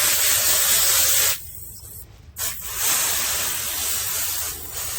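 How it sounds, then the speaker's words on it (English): Homemade water jet rinsing soil from the roots of a pepper plant being transplanted, a loud continuous hissing spray that briefly drops out and restarts, then carries on steadily. "we're gonna go ahead and rinse the rest of that soil out of there"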